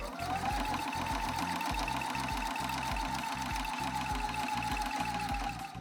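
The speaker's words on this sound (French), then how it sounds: "Donc, je viens coudre à 1/4 de pouce." Sewing machine stitching a quilt binding at a quarter-inch seam, running steadily and loudly with a fast, even mechanical chatter and whirring motor tone throughout, no voices.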